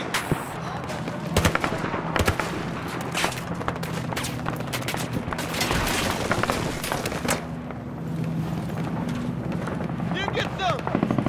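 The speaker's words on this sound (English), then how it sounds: "I'm shooting!" Dense, continuous gunfire from the video game Battlefield 4, rapid automatic bursts layered with distant explosions and a helicopter-like drone, loud and unbroken throughout.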